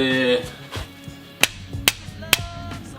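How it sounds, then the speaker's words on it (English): Several sharp metallic hammer strikes ring out at irregular intervals, close by, as a fork tool is driven between the control arm and ball joint of a 1970 Firebird's front suspension, with quieter knocks and rustling between them. "hammer this fork looking thing in between your control arm and"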